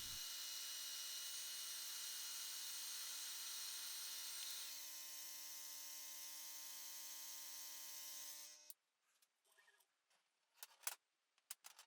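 An xTool D1 Pro laser cutter works through a 13 mm thick chain, giving a steady high whine with even tonal hum that runs about nine seconds, then stops abruptly, leaving faint scattered clicks and knocks.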